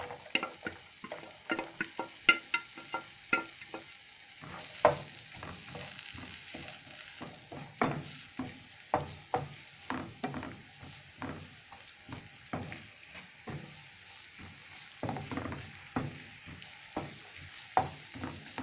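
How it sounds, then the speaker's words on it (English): Onions fry in oil in a hot pan, a steady soft sizzle broken by frequent clicks and scrapes of stirring, close by and fairly quiet, with no one speaking. "We add oil onto our pan. We let it heat a bit. We add the onions."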